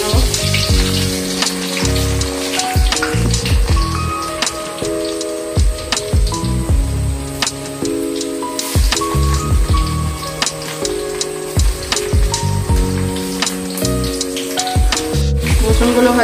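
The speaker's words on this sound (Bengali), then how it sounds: "ফার্স্টে রসুনগুলোকে ভেজে নেবো।" Garlic frying in hot oil in a kadai for a chilli chicken gravy, a steady close crackling sizzle that runs throughout under rhythmic stirring clinks and metallic scrapes, with no talking.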